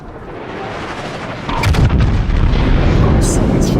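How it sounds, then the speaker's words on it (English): Armor-piercing shells strike a warship's turret in a naval battle game, likely on the battleship Musashi, a heavy booming impact landing partway through over a continuous rumbling din of gunfire. "someone's firing AP at me, and I think that hit a turret"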